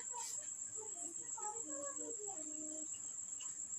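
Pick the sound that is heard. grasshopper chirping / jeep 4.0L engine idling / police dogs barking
grasshopper chirping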